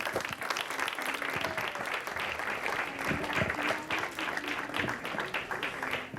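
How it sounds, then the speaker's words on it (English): Audience applauding at a school Founder's Day ceremony in a garden setting, steady dense clapping from a large crowd sustained throughout, fairly distant and even in level. "a big round of applause, please."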